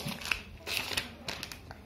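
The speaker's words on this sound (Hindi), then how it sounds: "इसकी सबसे पहले इसकी पन्नी उतार लेते हैं" Protective plastic film being peeled off a new 2019 MacBook Air, heard as close, crinkly crackling in several bursts, with no talking.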